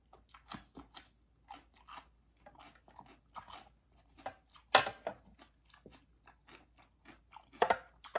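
Crisp, irregular crunching bites and wet chewing of fresh cucumber during a mukbang meal alongside som tam sauce and rotisserie chicken, close and fairly quiet, with one louder crunch midway and no talking.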